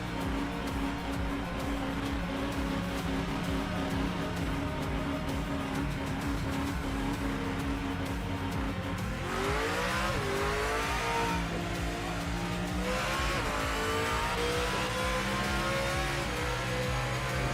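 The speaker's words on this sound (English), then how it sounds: "I know it's not the authentic audio of the Cadillac, but it still sounds fucking good." A Cadillac race car in the Project Motor Racing sim roars on a steady high engine note, then drops and climbs again through rapid upshifts as it accelerates, with a tire squeal and no talk.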